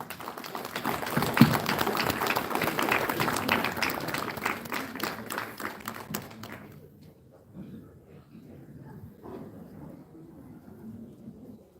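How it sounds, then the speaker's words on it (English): An audience at a Meghalaya celebration of Netaji Subhas Chandra Bose's birth anniversary gives a dense round of applause that swells loudly for several seconds, then fades to scattered claps and room murmur. "Ladies and gentlemen, a round of applause for Srimati Uma Purkayastha."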